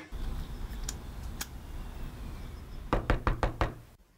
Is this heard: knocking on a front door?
yes